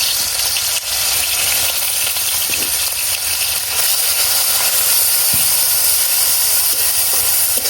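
Loud, continuous hiss of onion and garlic paste sizzling in oil in a wok, a dense frying noise that runs steadily throughout with no voices.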